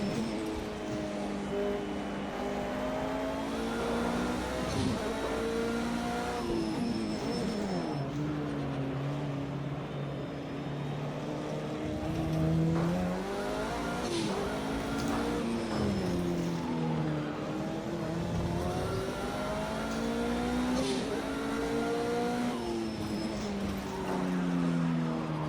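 A Group C endurance race car laps Brands Hatch, its engine droning loud and continuous with repeated rising and falling pitch through gear changes and corners, heard from inside over about twenty-five seconds.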